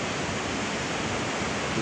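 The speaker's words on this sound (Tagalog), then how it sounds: "Laki ng grabe, laki ng tubig dito." Steady, loud roar of the swollen Apayao River rushing by a bridge, a dense continuous wash of noise with no pauses.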